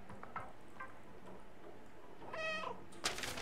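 A cat in the video game Stray lets out a short, clear meow near the end, amid soft ticking and faint background game sounds.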